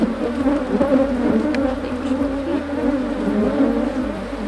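Honey bees buzz steadily at an apiary in São José do Campo, a dense continuous drone of many insects close by with no talk over it.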